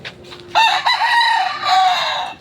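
A backyard gamefowl rooster, a gray bird nearly two years old, crows once nearby, loud and drawn out, with faint clucking just before it.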